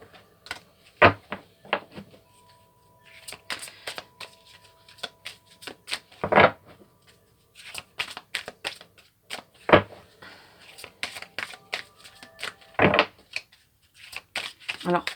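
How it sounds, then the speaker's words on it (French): Oracle cards being shuffled and drawn, with repeated crisp papery riffles and taps at close range, interleaved with intermittent speech. "Alors, on va prendre une deuxième carte."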